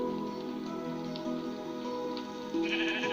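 Sheep bleating in a video game world, a few sustained wavering bleats layered over a steady, rain-like hiss of background ambience, fairly soft and with no voices.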